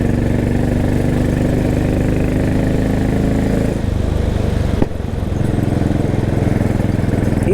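Royal Enfield Bullet 500 motorcycle engine running steadily on a rural Irish road, a loud continuous thump with a brief dip around the four- and five-second marks.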